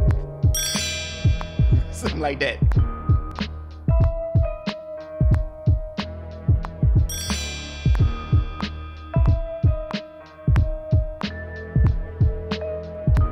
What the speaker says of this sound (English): some chimes. Check this out.